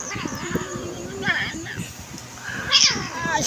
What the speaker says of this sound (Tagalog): Itim na pusa.